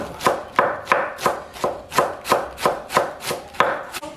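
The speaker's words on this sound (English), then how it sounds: "If you ever wanna cut cabbage for your pozole, for your tacos, this is the way to do it" A knife shredding cabbage on a cutting board for shrimp tacos, about a dozen crisp, evenly spaced chops in a quick steady rhythm, close and clear with no voices.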